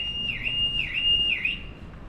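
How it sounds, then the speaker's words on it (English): A car alarm going off on a street, sounding a loud repeating warbling siren in regular cycles over low traffic rumble. "As I go past someone's car alarm going off"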